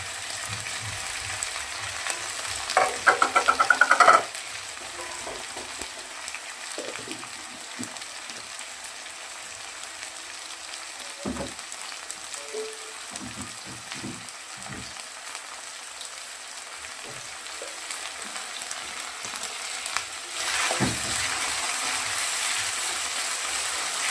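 Chopped onion fries in a pan with a steady, soft sizzle, with a burst of clattering stirring near the start and another brief scrape toward the end, no voices.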